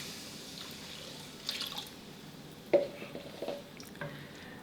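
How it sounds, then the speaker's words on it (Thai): Coconut milk is poured into a simmering pan, giving a soft liquid trickle over a steady low bubbling background, with a few small splashes and drips partway through. "พอทุกอย่างกลับมาเดือดดีได้ที่ครับก็หากะทิครับ ใส่ตามลงไปได้เลยนะครับ"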